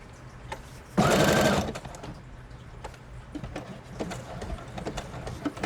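A sewing machine stitching fabric pockets runs in one loud, close, steady whirring burst of rapid needle strokes lasting about half a second. Quieter handling clicks and rustles follow, with no talk.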